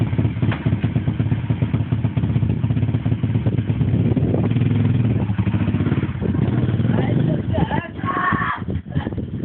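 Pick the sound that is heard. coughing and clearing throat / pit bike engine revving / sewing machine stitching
pit bike engine revving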